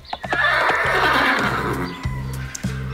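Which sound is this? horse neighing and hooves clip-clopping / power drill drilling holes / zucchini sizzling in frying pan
horse neighing and hooves clip-clopping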